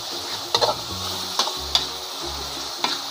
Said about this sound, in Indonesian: tumis dulu ini sampai matang ya, sampai harum.